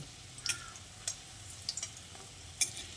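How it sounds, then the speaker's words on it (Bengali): Egg and boiled potato fritters fry quietly in a pan, with a soft steady sizzle broken by a few sharp clicks and spatters, no voices present. "এগুলোকেও আমি একইভাবে আগের মতো করেই ভেজে নেব।"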